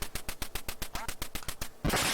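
Repeated electronic quacks from the Duck Hunt video game, played on an HDTV with a Hyperkin Hyper Blaster light gun, come in a fast steady rhythm of about a dozen short calls, followed by a loud burst of noisy game sound.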